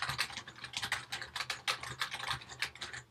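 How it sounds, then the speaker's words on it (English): Steady, fairly close keystrokes on a computer keyboard while typing a diary entry in Minecraft, a quick uneven clatter running for about three seconds with no talk over it. "So I can just type as much as I want in here."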